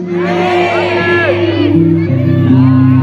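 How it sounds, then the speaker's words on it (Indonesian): Concert crowd at a band's show cheering and shouting loudly and continuously over sustained band music, with voices and whoops layered throughout. "Yang tepuk tangan dan teriaknya paling keras utangnya loh guys"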